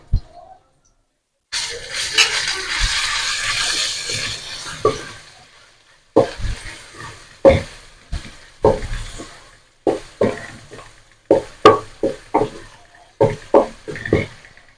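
Chopped garlic for chilli garlic sauce frying in a pan, with a loud sizzle at first, then a series of sharp scraping and stirring knocks of a spoon against the pan, spaced irregularly.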